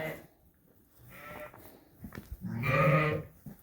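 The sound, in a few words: lambs and sheep bleating in a lambing barn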